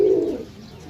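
A pigeon gives one low, close coo that fades away, leaving quiet background.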